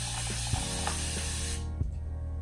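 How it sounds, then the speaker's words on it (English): A continuous-mist spray bottle filled with glycerin, rose water and water releases a steady, close hiss of fine mist, with faint clicks from the trigger, before cutting off near the end. "it spreads out a fine mist, and it covers a lot more ground than those regular squirt bottles"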